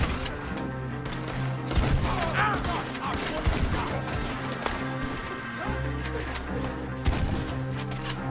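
Gunfire crackles through a firefight in the video game Red Dead Redemption 2, with loud shots and bursts over a constant low drone and cover being struck.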